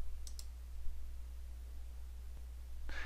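Faint mouse clicks on a computer running Civil 3D software, with a quick pair of sharp clicks near the start and another click near the end over a low steady hum.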